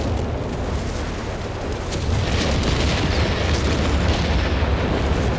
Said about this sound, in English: That was a lot of artillery there from the Allies to really clean things up